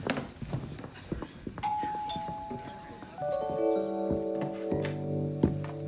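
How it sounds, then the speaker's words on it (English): A doorbell rings with a series of sustained bell-like chimes, layered and ringing out, while a voice talks underneath. "who'll be ringing the bell at this time of night?"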